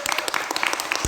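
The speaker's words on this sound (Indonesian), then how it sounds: "Oke, tepuk tangan dulu buat kita semua." Brief burst of audience applause at an Indonesian stage show, scattered claps rising and fading over about a second, fairly close.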